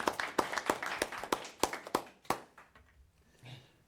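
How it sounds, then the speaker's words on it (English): A small group at a town conservation commission meeting gives scattered hand claps, a dozen or so sharp uneven claps that thin out and fade toward the end. "If we could get a round of applause for Pat."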